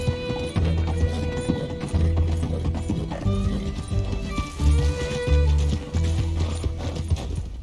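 A horse gallops in Red Dead Redemption 2, its rhythmic hoofbeats thudding steadily and close, with tack and gear rattling and a brief whinny and no talking.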